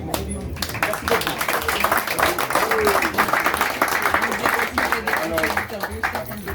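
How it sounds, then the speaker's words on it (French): An audience at a thirtieth-anniversary Christmas gathering breaks into steady, dense applause that carries on throughout, with a few voices mixed into the clapping. "on peut tous applaudir parce que l'échange est des côtés"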